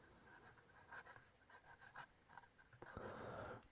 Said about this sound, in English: Judging by the way it writes, I think we have an F4 fine.